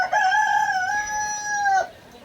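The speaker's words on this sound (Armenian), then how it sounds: "Ակլորիս կանչը թող բարի լինի առավոտ շուտ" A rooster lets out a single loud, drawn-out crow in the early morning. It is close by, runs for nearly two seconds, and then stops sharply, with nothing else heard.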